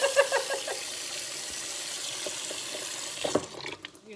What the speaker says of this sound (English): I'm going to get some cold water, run it down the chicken till it's covered